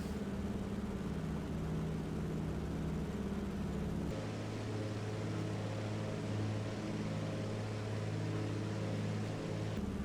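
Light aircraft piston engine droning steadily in flight, then stepping down to a lower, softer hum as power and RPM are pulled back, continuous and close.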